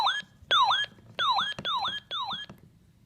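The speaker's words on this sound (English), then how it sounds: "These are the only two radios that I have set to sound an alarm." A weather radio sounds its alert alarm: five sharp, repeated electronic chirps with a swooping tone, loud and close, in a steady rhythm about every two-thirds of a second.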